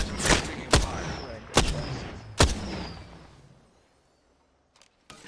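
Enemy gunfire in a shooter video game, four heavy shots in an uneven rhythm over about two and a half seconds, then fading to near silence with a couple of faint clicks at the end.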